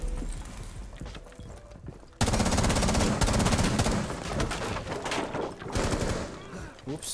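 Rapid automatic gunfire in the tactical shooter Rainbow Six Siege bursts in after a quieter stretch, a dense rattling volley of shots that continues loudly with brief dips, close and intense.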